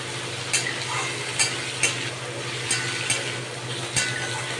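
Chopped onion, ginger, garlic and tomato frying steadily in a hot pan for a spinach omelette, a continuous close sizzle broken by several sharp scrapes of a stirring spoon, with no talking.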